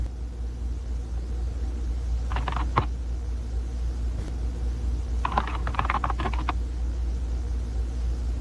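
Rapid clacking keystrokes on a computer keyboard in two short bursts, the second longer, set over a steady low rumble like a running engine or motor throughout.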